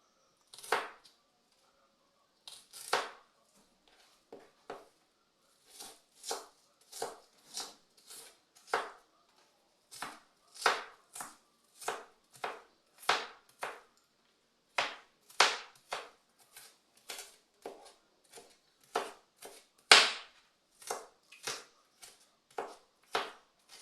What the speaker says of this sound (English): Now for the onions that are going to go in my chapati, I will cut them up into small chunks.